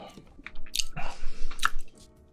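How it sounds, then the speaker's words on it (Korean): Wet, squishy chewing of an egg at a Korean mukbang meal with spicy rice cakes and air-fried chicken, close and loud, with soft smacking bursts and a sharp moist click midway, no talking. "계란을 먹어볼게요."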